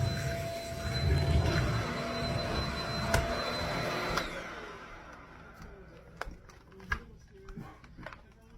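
A Shark Rocket Zero-M stick vacuum cleaner runs with a steady, loud whirring drone for about four seconds, then cuts off, leaving a few scattered clicks and knocks.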